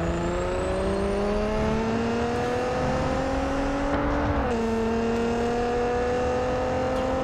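Racing car engine in Real Racing 3, holding a steady loud drone with slowly rising pitch, a brief drop as it shifts, then climbing again, with faint tyre noise and no voices.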